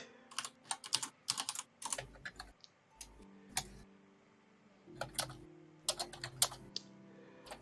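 Rapid bursts of keyboard typing in clicky clusters with short pauses, close and fairly quiet, during a tabletop role-playing game session; no one speaks.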